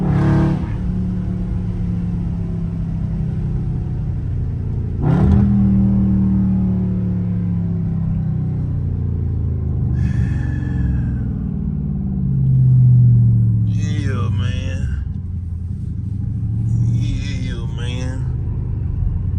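Dodge Scat Pack V8 rumbling steadily through a drive, a low engine drone with a couple of swelling revs, heard under continuous talk from inside the cabin.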